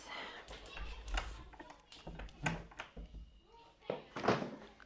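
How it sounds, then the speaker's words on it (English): A room door is pushed shut during an interview, giving a couple of muffled thumps amid light background clatter; no clear speech is heard over the handling noise. "Let me close the door, please."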